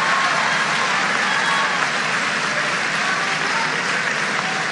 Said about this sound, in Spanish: un aplauso muy grande para todos los argentinos que participaron.